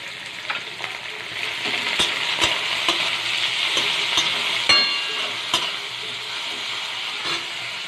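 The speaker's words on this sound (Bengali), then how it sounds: "এবার চিংড়ি মাছটা দিয়ে দেবো।" Shrimp frying with browned onions in a hot pan, a steady bright sizzle with occasional sharp crackles and spatter pops, close and loud without any talk.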